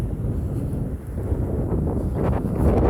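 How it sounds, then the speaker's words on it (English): Strong gusty wind buffeting the microphone near the beach by Sutro Heights, a loud, continuous low rumble that swells and surges unevenly, with no voices. "it's so windy that this might just make this whole video shitty and unwatchable"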